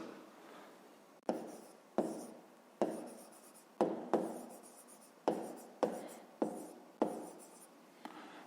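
A pen writing by hand on paper during a 5th grade maths exercise, up close, in a steady series of short scratchy strokes that each fade quickly, with small gaps between them.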